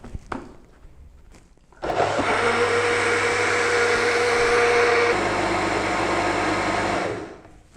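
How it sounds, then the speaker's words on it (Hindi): A blender grinds a dates energy milkshake, starting after a quiet moment with a loud, steady whirring drone that holds evenly for several seconds before cutting off near the end. "शेक को हमने अच्छे तरीके से ग्राइंड कर लिया है।"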